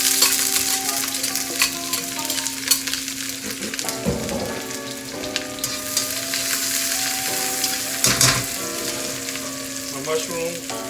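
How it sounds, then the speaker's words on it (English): Onions frying in a pan for chicken chow mein, sizzling steadily throughout while being stirred, with scraping stir strokes cutting through the constant crackle at close range. "So I'm going to go in with my onions."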